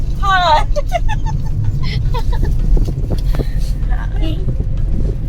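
A family car being driven on a village trip, heard from inside the cabin as a steady low engine and road rumble under close talking and a voice.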